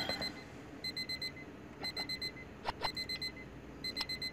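Alarm clock ringing in the visual novel game Cafe Rouge, repeated bursts of four quick electronic beeps with short pauses between groups, fairly soft and with no talk.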